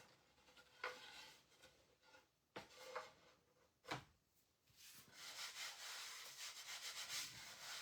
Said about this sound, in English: sand this just a little bit more